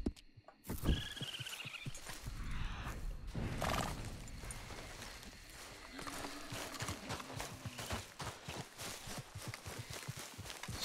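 In Red Dead Redemption 2, a horse lets out a loud whinny near the start, then its hooves clip-clop in a steady rhythm for the rest of the stretch, with faint game ambience underneath.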